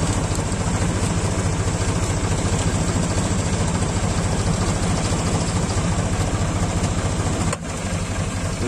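A tractor engine running steadily while ploughing a field, a loud continuous low rumbling drone with a regular pulsing throb, heard close up from in or beside the cab, briefly dipping near the end.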